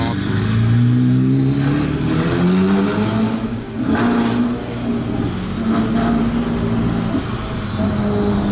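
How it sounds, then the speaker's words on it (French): A loud sports car engine rumbles and revs nearby in a low rolling drone that surges and eases, with people talking over it. "Oh, le bruit. Elle est vraiment impressionnante."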